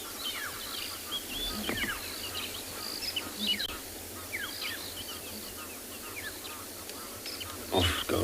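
Birds calling at sunrise on a safari at Tswalu, with repeated chirps and harsh calls scattered across the morning, some near and loud, others fainter, over a soft background hum.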